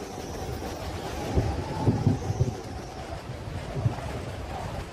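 Rumbling cyclone storm noise with rain and gusting wind, low thunder-like surges rising and falling, dense and continuous throughout.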